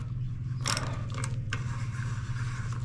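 Mechanical clicking and ratcheting as a mountain bike cassette lockring is unscrewed counterclockwise with a tool, with a louder burst of clicks near the start and another sharp one midway over a steady low hum.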